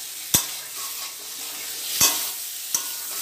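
A spice paste with slit green chillies fries for katla fish curry, hissing in a steady bright sizzle while a spoon stirs it, with three sharp taps against the pan, close and clear.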